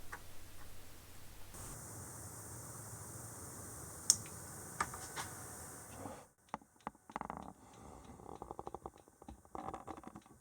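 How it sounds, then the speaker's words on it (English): A 286 computer powering on during boot, a steady fan hiss giving way to a rapid series of faint, closely spaced memory-count clicks, quiet and near, with no voices. "we definitely can hear memory counting clicks"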